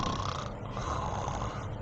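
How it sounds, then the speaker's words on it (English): Loud snoring from a sleeper, a rough rasping drone that keeps going with a slight dip partway through, close and alone with no talk. "the classic picture is someone who's loudly snoring"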